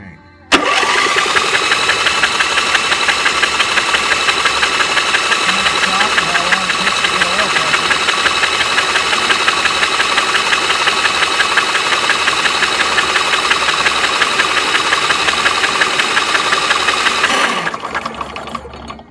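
A small engine runs steadily after an oil change, a loud, even mechanical drone with a rapid knocking rhythm that holds for about seventeen seconds before cutting off.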